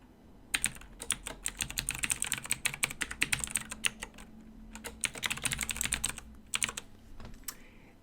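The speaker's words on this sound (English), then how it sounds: "So let's go ahead and type in Jane Doe." Fingers type on a computer keyboard in quick, uneven bursts of crisp clicks, close and clear, with brief pauses between words and no talking.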